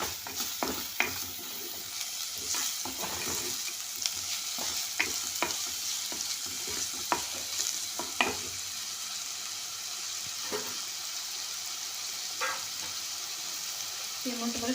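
Onion fries with salt in a pan, a continuous sizzle broken by repeated scraping and stirring clicks from a spoon, close and fairly loud, with no talk.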